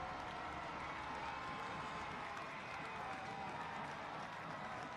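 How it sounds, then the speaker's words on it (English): A stadium crowd roars after a late soccer goal at Trinity Health Stadium in a Hartford Athletic versus Louisville City match, a steady dense wash of cheering and applause held at even level throughout. "And this crowd on its feet at Trinity Health Stadium."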